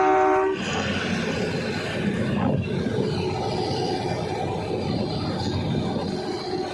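Shimla's toy train climbs uphill with a short horn blast at the start, followed by a steady, close rumble and clatter of carriages rolling on.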